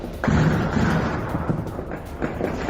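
Airstrike bombardment by a fighter plane over North Hama, Syria: a heavy rumbling blast swells early and lingers, followed by a few duller thuds and booms at middle distance with no voices.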